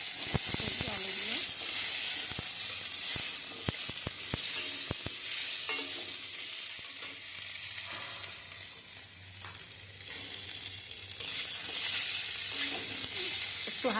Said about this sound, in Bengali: একটু হালকা ভেজে নিতে হবে।